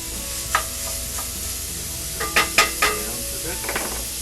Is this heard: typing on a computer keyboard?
no